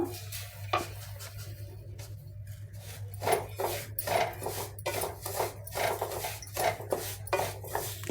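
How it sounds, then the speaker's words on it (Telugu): Semolina fried in ghee being stirred with sugar in a pan: steady rasping, scraping strokes of a spoon, close and fairly quiet, with a low hum underneath and no talking. "కొద్ది కొద్దిగా చక్కెర వేసుకుంటా కలుపుకుందాము"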